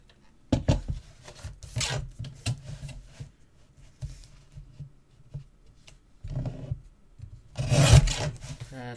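Paper being trimmed for a Graphic 45 Bird Song mini album produces close, intermittent rasping and scraping strokes in short bursts, with a louder, rougher burst near the end.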